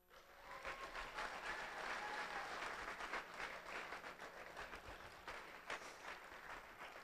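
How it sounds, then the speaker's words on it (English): A high school graduation crowd applauds its teachers, a broad, sustained roar of many hands clapping at a distance, steady and dense for several seconds before thinning slightly, with no speech over it. "For that, they deserve a round of applause."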